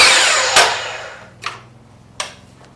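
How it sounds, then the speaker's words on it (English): A miter saw finishes a 36-degree angle cut through a 1x4 pine board for a wooden star decoration, its loud whine fading out, then the cut piece knocks and clatters twice on the bench. "we're going to cut a 36-degree angle off on the end. So I've set my miter saw up to 36 degrees"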